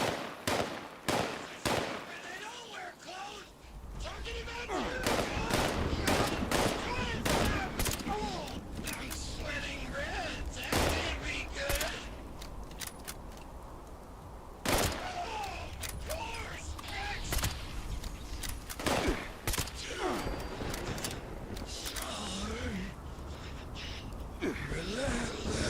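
Gunfire in the video game Fallout 76 gives a loud, dense run of rapid shots and bangs over a game soundtrack, with a few sharp cracks standing out.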